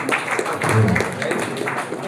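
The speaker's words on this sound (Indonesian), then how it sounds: "Dari Gresik, tepuk tangan Pak Yai Gresik" An audience at an Islamic lecture on the Hajj pilgrimage claps together in a moderate, dense patter under a voice, which keeps talking over the applause.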